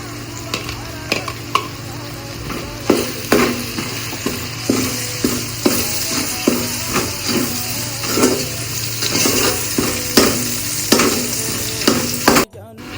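Ground tomato goes into a hot pan of frying ginger-garlic paste for mutton biryani, sizzling steadily while a spoon scrapes and stirs in a regular rhythm, close up.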